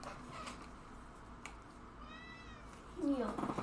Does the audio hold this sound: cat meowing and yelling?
yes